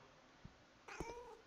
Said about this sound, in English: I hope the cat's not up there.